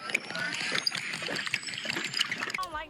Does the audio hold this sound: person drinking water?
yes